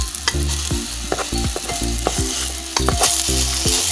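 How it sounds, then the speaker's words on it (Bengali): Sattu litti roast in a pan while a spoon turns them, with repeated squeaky scraping strokes in a loose rhythm over a steady sizzle, close and clear without speech. "এবার একটা চামচের সাহায্যে আমি ভালো করে ঘুরিয়ে দেবো, যেন দু পিঠটাই লিচি ভালো করে সেঁকা হয়ে যায়"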